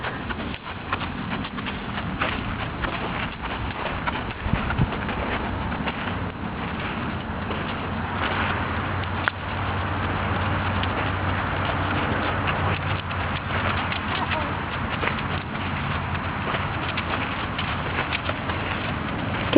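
Horse hooves clip-clop steadily through a child's first solo ride, a continuous muffled patter with a faint background hiss and no talk.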